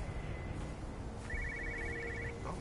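A telephone rings inside a house in the game Everybody's Gone to the Rapture, a faint repeated electronic trill that comes through as if muffled from somewhere nearby, set against a low ambient background with no talking.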